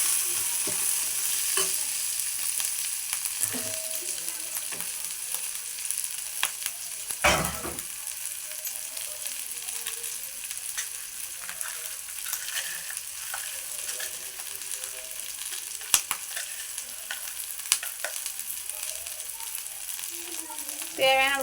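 Guava pieces sautéing with grated coconut in a pan for chutney: a soft steady sizzle with intermittent scraping stirs and a few sharp clinks of the spoon against the pan, close by.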